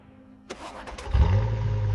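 A Lamborghini V12 engine fires up at the rear after a short quiet stretch, catching with a sharp bark and then settling into a loud, steady low rumble close by.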